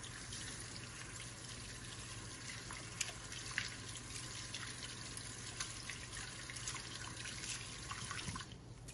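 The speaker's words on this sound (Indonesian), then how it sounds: "Itu bilas tangan dengan bersih." Hands being rinsed clean under a running tap after washing with propolis soap, a steady close hiss of flowing water with faint splashes and drips, no talking.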